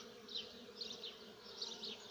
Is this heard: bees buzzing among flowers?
yes